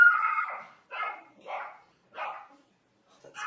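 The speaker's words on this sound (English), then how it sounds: "My dog just started barking" A dog barks nearby indoors, a series of four or five sharp yapping barks spaced roughly half a second apart, loud and close, with quiet gaps between them.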